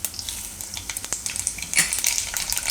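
Mustard seeds and cumin sizzle in hot oil, with rapid crackling and popping that comes in bursts, close and fairly loud, along with a few light clinks of a utensil against the pan and no talk.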